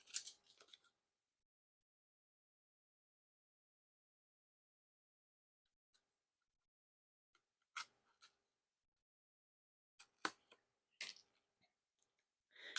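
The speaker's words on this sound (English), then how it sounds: "let's crack that seal. Grab a handy dandy card opener" A card opener slicing the seal on a Penguin Magic Ace Invaders deck of playing cards: a few quiet, brief clicks and scratches scattered across near silence, with slightly busier cutting toward the end.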